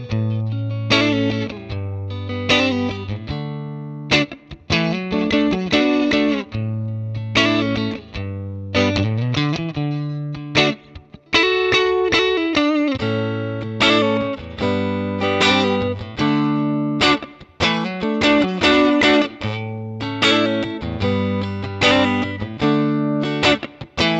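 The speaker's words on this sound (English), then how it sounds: "I'm going to choose similar clean, overdrive, and distorted tones, as well as a few effects models." An electric guitar through a Fender Mustang Micro or NUX Mighty Plug headphone amp plays chords and riffs with a gritty, overdriven and distorted tone, loud and continuous, switching between slightly different crunchy sounds.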